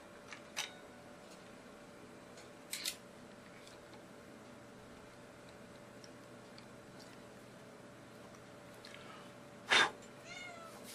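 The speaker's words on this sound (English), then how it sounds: "That's my cat, one of my cats." A pet cat named Gracie meows a few times indoors, short faint calls spaced apart with a louder one near the end over a steady low hum.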